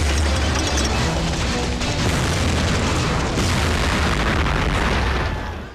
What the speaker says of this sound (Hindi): 11 जुलाई 2006 मुंबई ट्रेन में बम विस्फोट।